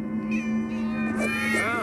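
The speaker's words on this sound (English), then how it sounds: "Oh, many cats, so many cats." Several cats meow in a cutscene of the Minecraft Story Mode video game, a cluster of close, clear meows and yowls over a steady musical hum, no talk.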